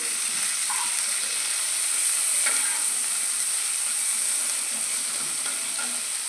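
Cauliflower florets frying with salt and turmeric in a pan, giving a steady, even sizzle with faint stirring clicks, close and continuous, with no voices.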